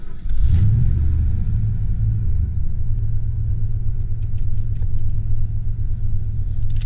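A 1989 Ford F-250 XLT Lariat 4x4 with a 5.0L engine cranks and catches right away, then settles into a loud, steady low idle rumble close by.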